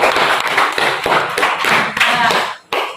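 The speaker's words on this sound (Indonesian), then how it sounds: "Ya, tepuk tangan." Students in a classroom clap their hands together in a burst of loud, sharp, rhythmic claps lasting a few seconds, with a brief pause near the end.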